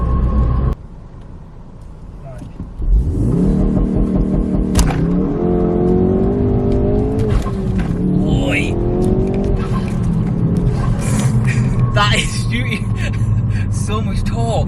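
A Ford Focus RS launches with the accelerator floored: a sudden loud engine roar rises and holds, with rising rev sweeps and tyre squeal. People talk and exclaim inside the car over it.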